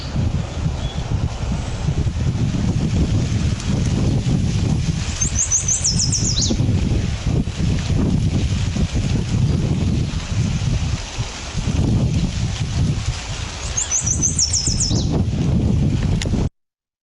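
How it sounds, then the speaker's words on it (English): A yellow warbler repeats a short, bright, descending song twice near a swamp, small and somewhat distant, almost buried under loud, constant wind rumble on the microphone. "the main bird you can hear there singing over and over is this yellow warbler here"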